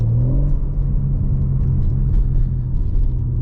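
A 2023 BMW M4 Competition xDrive with a ZF 8-speed automatic, driven in its sportiest setting: a loud, steady low engine rumble and drone heard from inside the cabin, continuous throughout with no talking.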